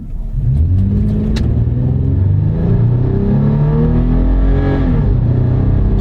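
A car under full throttle from a standstill on an empty strip, engine roaring loudly and climbing steadily through the revs with clear shifts, continuous and close for several seconds with no talk.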